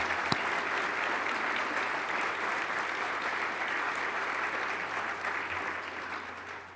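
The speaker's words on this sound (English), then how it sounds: "Let's give them a round of applause." Students from a math, engineering and science academy receive sustained applause from an audience, a dense, even wash of clapping that holds for several seconds without a break and tapers only slightly at the end.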